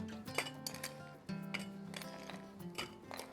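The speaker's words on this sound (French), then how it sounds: "On va mettre les glaçons dans le shaker." Ice cubes go into a cocktail shaker while a basil mocktail is prepared, making several sharp, close clinks and rattles in quick succession, fairly quiet overall.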